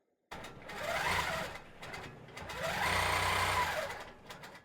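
A longarm quilting machine stitching a Prostitcher design, starting abruptly and running in a steady mechanical whir that rises and falls in two long passes, close and loud.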